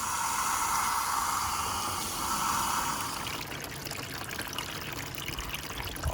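Water rushes steadily through a newly installed vinyl gutter, a continuous close splashing flow with a hissing texture that shifts partway through as the stream changes, with no talking.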